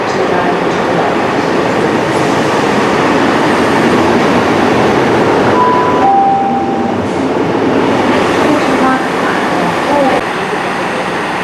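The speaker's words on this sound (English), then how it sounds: "Here comes the 1830 Transport for Wales service to Crewe, 153" A Transport for Wales Class 153 diesel railcar, unit 153353, rolls past on a service to Crewe with a loud, steady rumble and rail noise that continues close by for the whole stretch.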